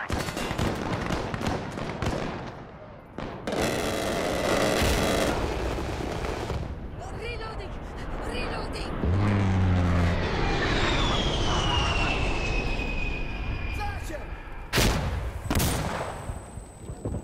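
Heavy gunfire and explosive rumble fill a night battle on the Power Plant map in the Insurgency Sandstorm video game, a dense, loud, continuous barrage with radio-style voices heard now and then.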